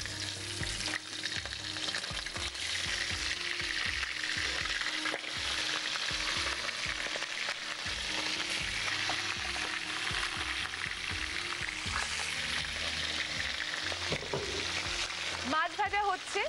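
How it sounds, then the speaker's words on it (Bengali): Pabda fish fry in hot oil with a continuous, busy sizzle and crackle, alongside occasional stirring and scraping in a kitchen, while voices talk quietly underneath. "মাছ ভাজা হচ্ছে, আওয়াজ শুনেই বুঝতে পারছেন অলরেডি মাছ ভাজা"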